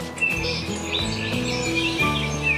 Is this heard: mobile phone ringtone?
no